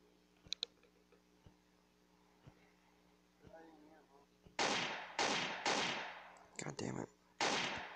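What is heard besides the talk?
gunfire in a video game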